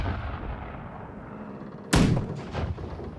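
A single loud cannon blast from a ship in the naval battle game Blackwake, booming close with a rumbling tail after a stretch of low ambient noise.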